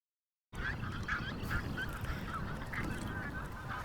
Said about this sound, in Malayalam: ഈ ലേക്കിൽ ധാരാളം കൊക്കുകളും അതുപോലെ തന്നെ താറാവുകളെയും കാണാൻ സാധിക്കും.